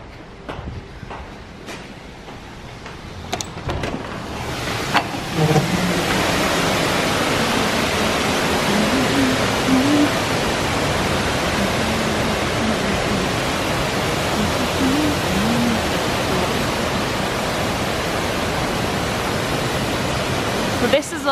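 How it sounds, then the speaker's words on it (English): Waterfall fountain at Disney's Wilderness Lodge pours as a steady broad wash of falling water, with people talking faintly over it. "Oh, I love this fountain, this waterfall."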